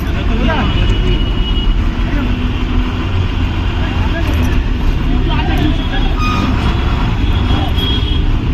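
Loud, constant din at a crowded bus stand outside a railway station: rumbling buses and trucks, traffic noise and what may be reversing beeps, mixed with a babble of shouting voices throughout.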